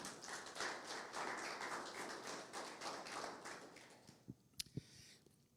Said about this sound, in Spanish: Denle un aplauso a Cristo en esta mañana